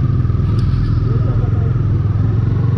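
A motorbike with a slightly loose chain rides through the streets of Visakhapatnam, its engine a steady, loud, close drone with continuous road rumble throughout.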